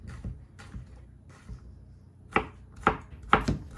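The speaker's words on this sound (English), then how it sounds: "That's how I'm going to cut all of it. So I have nice chunks of cucumber." A knife chops cucumber into chunks on a board, a few soft scattered cuts followed by several sharper, louder chops close by.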